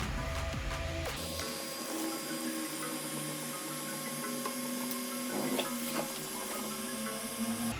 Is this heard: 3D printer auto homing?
yes